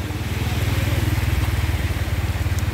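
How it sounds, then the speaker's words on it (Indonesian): A motorcycle engine runs on a flooded road on the Kebumen–Purworejo border, a loud, steady pulsing idle close by with no talk. "Informasinya motor ini sampai nggak bisa nyebrang"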